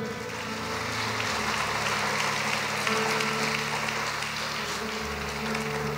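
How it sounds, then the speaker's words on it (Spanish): A church audience applauds at the close of a sermon, a soft, steady patter of many hands clapping together that holds evenly for several seconds over a low sustained hum, with no talking. "Denles aplauso al Rey."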